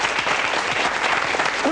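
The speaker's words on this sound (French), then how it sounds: "Franck Margerin, qu'on peut applaudir." A studio audience on a 1990 French television game show claps steadily, a short dense burst of applause at moderate loudness.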